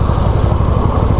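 A drive-by-wire motorcycle engine runs with a steady, loud, close rumble and a fast even pulse, holding at one throttle level with no rise or fall and no talk over it.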